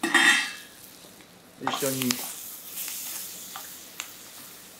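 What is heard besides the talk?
bacon added and stir-fried with onions in pot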